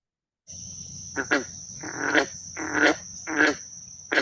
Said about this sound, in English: my summer afternoons by the clucks of the green frogs